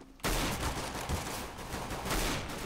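Rapid gunfire in Counter-Strike: Global Offensive, several quick sharp shots bursting out in a loud cluster.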